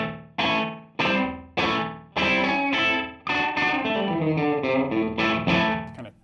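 Electric guitar through a JHS Pink Panther delay pedal set to its shortest delay time, giving a quirky doubled sound: a run of picked notes and chords, each sharp attack trailed by a tight echo, loud and close with no talking.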